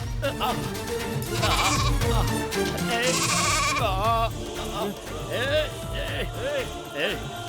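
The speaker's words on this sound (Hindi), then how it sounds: "अंदर से कुछ बकरियों की आवाज आ रही है" Several goats bleat repeatedly in wavering, rising and falling cries in a scene from a Hindi-dubbed South Indian action film, mixed with other voices and background sound.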